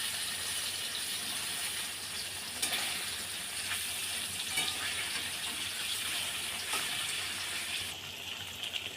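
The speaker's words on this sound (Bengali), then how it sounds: "পনিরটাকে উল্টে ভালো করে ভেজে নিচ্ছি।" Paneer fries in hot oil in a wok, giving a steady, close sizzle with a watery hiss and a few brief louder crackles, with no voices.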